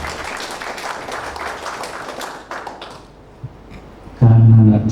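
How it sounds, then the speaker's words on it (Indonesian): An audience at an academic doctoral ceremony applauds steadily, then the clapping thins and fades before a loud, close burst of other sound cuts in at the end. "Tepuk tangan, Pak."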